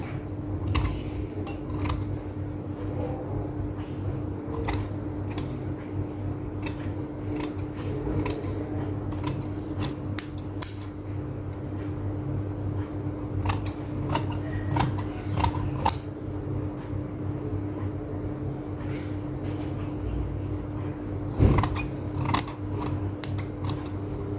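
Scissors snip through a sewn fabric seam on a dress pocket, a long series of short, crisp cuts at an uneven pace over a steady machine hum, close and fairly loud with no talking.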